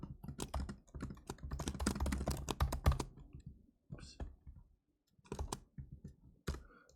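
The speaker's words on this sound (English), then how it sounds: "So here, I'm going to type it out." Typing on a computer keyboard: a dense run of quick, close key clicks for about three seconds, then scattered short bursts of keystrokes separated by silences.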